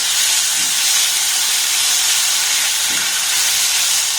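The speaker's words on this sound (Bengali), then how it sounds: "গ্যাসের ফ্লেমটাকে লো রেখে এবার পনিরগুলোকে একটু হালকা লাল লাল করে ভেজে নেব।" Paneer pieces frying in oil over a low gas flame give a steady, loud broadband hiss that holds unbroken and even from start to finish, with no voices.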